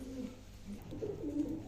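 Kaldum pigeons cooing nearby, soft low throaty coos rising and falling in a couple of short rolling phrases over a faint steady background.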